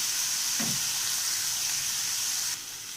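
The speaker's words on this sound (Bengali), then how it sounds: "পনিরটাকে আমি হালকা ভেজে নেব।" Paneer lightly frying in hot oil gives a steady, close sizzling hiss that holds evenly, then drops a little quieter near the end.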